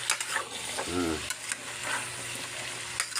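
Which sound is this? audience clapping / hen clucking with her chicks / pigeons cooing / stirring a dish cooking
stirring a dish cooking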